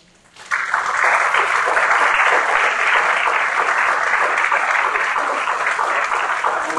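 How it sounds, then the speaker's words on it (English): A large audience at a mayoral candidate forum breaks into sustained applause that starts abruptly after a brief quiet moment and stays loud and steady for several seconds, with no one speaking over it. "I think we can all give the candidate for mayor, Mr. James of Housing, a round of applause."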